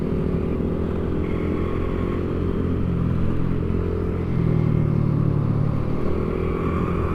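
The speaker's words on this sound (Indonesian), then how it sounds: "ada nosnya tuh, knalpotnya gede banget" A motorcycle with a big aftermarket exhaust rumbling and revving in traffic, a deep close engine note that swells louder partway through amid the general road noise.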